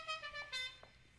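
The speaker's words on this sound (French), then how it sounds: "un gars qui utilise un avertisseur aussi ringard" A car horn toots several times in quick succession, bright and brassy, close and fairly loud, with nothing else around it.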